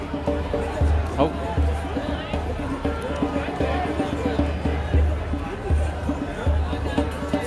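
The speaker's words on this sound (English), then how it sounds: "It's a lively little crowd." Lively crowd at a night protest in Portland: a dense, steady hubbub of many voices and chatter, with occasional louder shouts and bumps rising out of the continuous babble.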